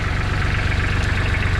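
Kubota B1700HD 4x4 hydrostatic diesel tractor with a three-way blade idling steadily, a loud, even low diesel rumble with a fast regular knock, close up and without voices.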